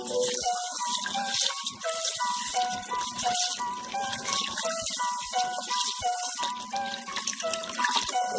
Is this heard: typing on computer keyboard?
no